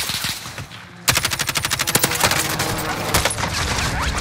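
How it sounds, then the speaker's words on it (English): Dense automatic gunfire from a video game shooter, erupting after a brief quieter lead-in into a rapid string of sharp, loud bursts from many directions that continue to the end. "Oh man, I'm getting shot from all ways."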